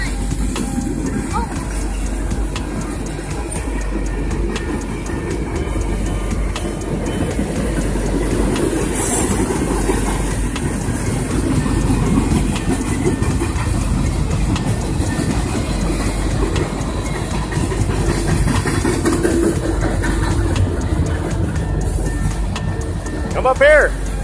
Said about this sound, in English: That is a CSX.